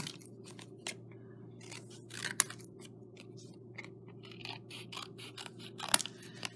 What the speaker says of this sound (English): You need to be cutting this cardboard.